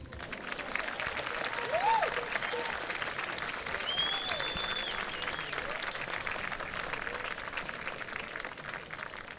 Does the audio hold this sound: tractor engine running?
no